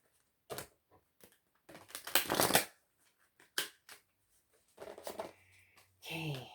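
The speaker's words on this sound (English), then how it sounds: "This one more shuffle." Tarot oracle cards being shuffled by hand, producing a series of soft, quick riffling and slapping bursts with brief pauses between them, fairly quiet and close, with a short spoken moment near the end.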